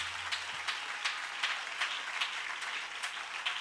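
Church congregation applauding: a faint, steady patter of clapping in a regular rhythm from a crowd some distance away.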